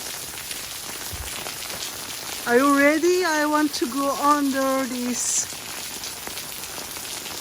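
Heavy rain falls steadily on a street in Oslo, a dense continuous patter throughout, with someone talking close by over it partway through.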